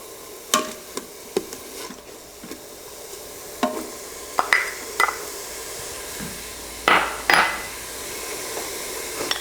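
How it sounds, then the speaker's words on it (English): Chopped carrot and celery drop into an Instant Pot as turkey noodle soup is made, giving a scattered series of sharp taps and clatters with brief scraping in between and no talk. "let's go ahead and add that carrot and celery"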